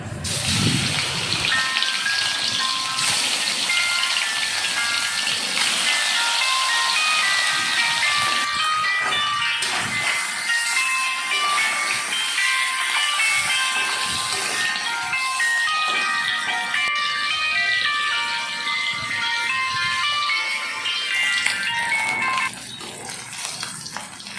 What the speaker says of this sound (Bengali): তেলটা গরম হয়ে গেছে, আর মাছটা ভেজে নিব তেলে